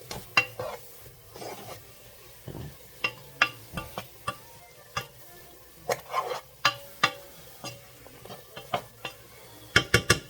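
Sautéed vegetables are stirred in a cooking pot for chicken and sausage gumbo, giving quiet, irregular scrapes and clicks of a utensil over a soft, faint sizzle.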